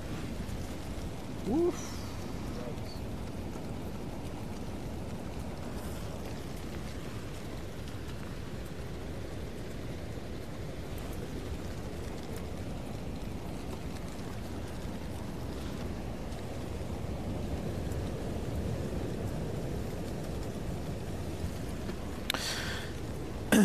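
Steady roar of surf and wind as waves pound a jetty at Haulover Inlet ahead of Hurricane Nicole, continuous and fairly loud, with a brief faint voice near the start.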